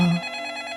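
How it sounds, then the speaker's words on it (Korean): A home landline telephone rings in the early hours, a single short electronic trill heard close and clear with no talking. "그러던 어느 날 새벽에 집 전화기가 막 울려대는 겁니다."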